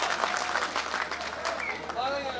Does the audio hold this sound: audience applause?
yes